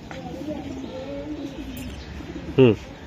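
A racing pigeon, a cream bar hen, gives a short, loud burst of cooing late in the moment, close by and standing alone above steady background murmur and faint chirps.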